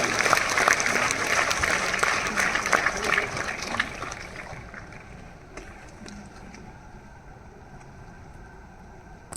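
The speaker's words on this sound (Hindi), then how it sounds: "एक बार फिर से जोरदार तालियों के साथ" A large audience applauds loudly to welcome a guest speaker at a motivational event in Kolkata, a dense wash of clapping that slowly thins and fades toward the end.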